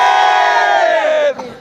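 A crowd of men chants a political slogan in unison at a rally, a loud sustained shouted cry that holds and then breaks off abruptly near the end.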